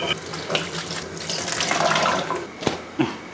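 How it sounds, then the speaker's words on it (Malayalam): Water trickles and splashes steadily from a tap or vessel while being sprinkled onto rice flour for Kerala-style puttu, a close, continuous wet hiss with a few small clicks near the end. "ഈ വെള്ളം കുറേശ്ശെ ഒന്ന് തളിച്ച് കൊടുക്കണം"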